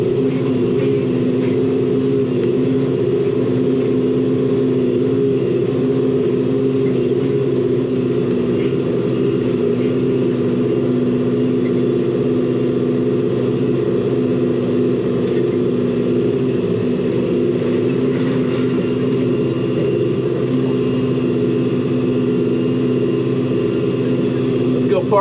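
A tractor pulling a disc harrow across a field runs with a steady, loud engine drone for the whole stretch, its low hum unbroken.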